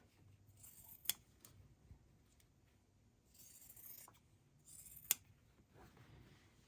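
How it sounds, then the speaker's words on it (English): Scissors trim fabric quilt block pieces in a quiet room, with a few soft snipping bursts and two sharp metallic clicks of the blades spaced a few seconds apart, close and faint. "And then I simply just trim these off."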